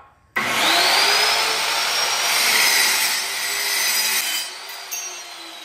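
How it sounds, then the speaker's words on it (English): A small, compact saw cuts little parts in a workshop, a loud, steady buzzing rasp that starts abruptly and runs continuously for about four seconds before easing off, with no talk. "What a perfect time to use my little saw."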